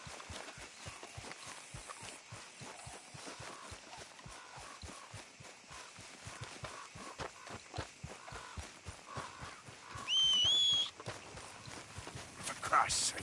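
Horse hooves in the video game Red Dead Redemption 2 clip-clop in a steady, even rhythm from start to finish, moderately close, with a brief tonal sound near the end.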